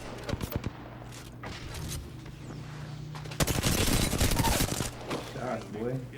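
Gunfire in the Apex Legends video game: rapid bursts of shots and a sustained stretch of automatic fire, loud and close, over a low background hum and brief voices.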